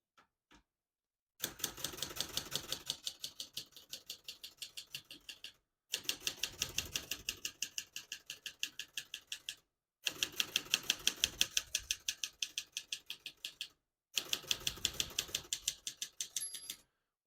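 Typing on a 1969 Adler Tippa S portable typewriter: four bursts of rapid, crisp mechanical keystrikes, close and loud, separated by short pauses, with a small bell ding near the end.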